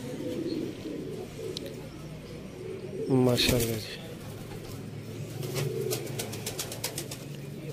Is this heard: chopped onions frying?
no